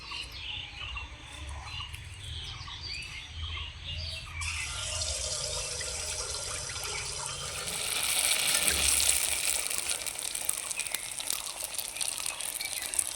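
A ladle of foxtail millet (kaun) rice batter hits hot oil for pitha, and a soft background gives way to a steady, hissing sizzle that swells and stays close and continuous.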